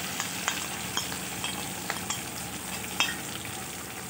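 Potatoes with slit green chillies frying in hot oil for an aloo tarkari, a steady close sizzle dotted with small crackles and pops, no voices.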